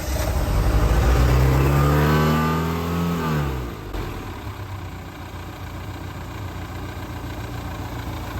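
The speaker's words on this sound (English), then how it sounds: "We are going to start the motor now." A boat outboard motor cranks and revs up with rising pitch, then drops back to a steady idle, close by with no talking.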